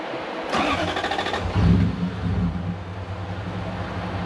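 A starter motor whirs briefly, then a Land Cruiser's large V8 engine (a 1UZ in a BJ40) catches and settles into a steady, rumbling idle nearby.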